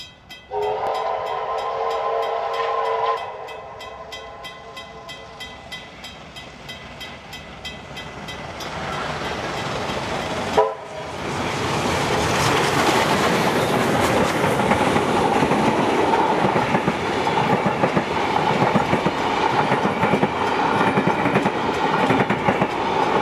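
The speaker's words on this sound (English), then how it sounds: "to see 6029 the Garratt make its way with passages to Thirlmere from Sydney" Garratt steam locomotive 6029 hauls a passenger train toward Thirlmere in New South Wales, a loud close pass with a sustained whistle blast, then heavy rolling rumble and steady clattering of carriages that continues to the end.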